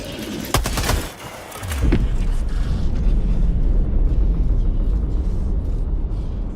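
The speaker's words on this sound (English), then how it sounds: "let's go ahead and actually listen to it explode" A ship blows up in the video game Helldivers 2. A cluster of sharp blasts is followed by a heavy, sustained low rumble that carries on steadily to the end.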